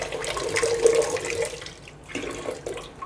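Running water rinses Kangen water machine parts, such as a washer, under a tap, giving a steady splashing rush that fills the clip and eases off slightly near the end.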